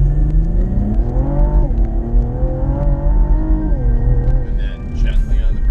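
A Cadillac CTS-V with the 640-horsepower LT4 engine accelerates, its loud close engine note rising and shifting in pitch through gear changes, heard from inside the car with voices talking over it.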